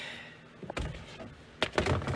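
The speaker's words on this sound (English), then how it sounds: "I'm gonna hop in here and shut the door" A Ford F-150 door is shut from inside the cab, giving two solid thunks about a second apart, close and fairly loud over quiet background.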